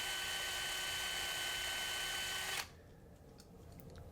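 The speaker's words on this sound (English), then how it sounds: "A little nerve-wracking drilling these holes when you first start doing this" A small high-pitched drill whines steadily for a few seconds while boring out a post on a Hot Wheels Redline die-cast car, close and alone, then stops abruptly, leaving faint room noise and light handling sounds.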